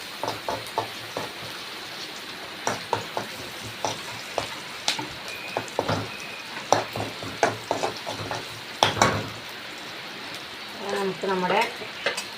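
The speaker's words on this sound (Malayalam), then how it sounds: "അപ്പോൾ നമ്മൾ അവിടെ പച്ചമുളകും കറിവേപ്പില ഇട്ട് കൊടുക്കാം" Green chillies and curry leaves fry in a hot pan, with steady crackling sizzle, sharp spattering pops and repeated stirring scrapes close by, and a voice speaking briefly near the end.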